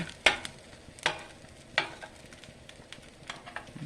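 A spatula eases a hashbrown omelet's egg back in a frying pan, making three sharp, close scraping strokes spaced about a second apart over a faint, steady sizzle.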